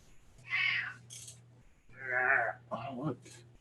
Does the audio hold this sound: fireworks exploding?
no